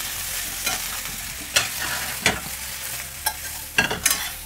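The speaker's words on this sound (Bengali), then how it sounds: "এবার উচ্ছেগুলো অল্প ভেজে তুলে রাখবো প্রথমে।" Bitter gourd slices fry in hot oil with turmeric and salt, giving a steady close sizzle. A spatula stirs with several distinct scraping strokes, and no one speaks.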